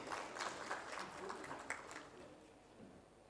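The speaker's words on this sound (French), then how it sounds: "Je vous demande de l'applaudir, s'il vous plaît." Audience at a panel session applauding in a burst of clapping that tapers off into quiet room tone toward the end.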